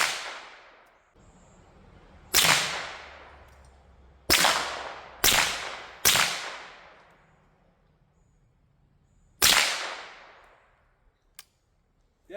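Gunshots firing 115 grain ammunition at a range, six sharp loud cracks spaced irregularly over about twelve seconds, each trailing into a decaying echo, plus a faint click near the end.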